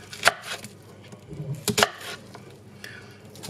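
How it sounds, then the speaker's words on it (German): A knife cuts an onion into fans on a board, making a few soft, close chopping knocks spaced apart, quiet with no talking. "Die Zwiebel schneiden wir zuerst einmal ein, dann schneide ich sie"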